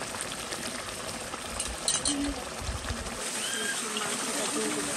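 Meat goes into a hot pan of spiced masala and sizzles with a steady frying hiss, a brief clatter of the utensil as it is stirred, continuous and close, with a voice over it.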